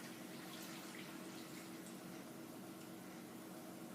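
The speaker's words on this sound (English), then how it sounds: "So we've got 2 cups of water that we're gonna add to all of this." Two cups of warm water pour into a Vitamix blender jar, a faint, steady rushing splash that continues evenly throughout without pause or talk.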